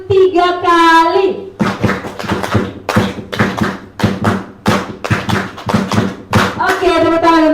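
A group of people claps a fast rhythmic five-beat pattern repeated three times in unison, the crisp claps ringing out between a leader's spoken calls at the start and end.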